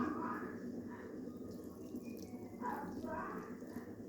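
Water pours steadily, a soft continuous splashing trickle with a couple of brief louder gushes, close by and fairly quiet.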